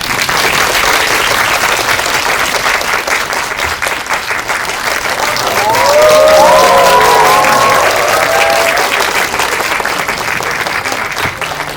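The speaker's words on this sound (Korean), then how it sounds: "큰 박수 부탁드립니다." An audience in a Megabox COEX cinema claps loudly and continuously at a film talk event for a movie premiere, sustained applause swelling slightly in the middle with faint cheers, no speech over it.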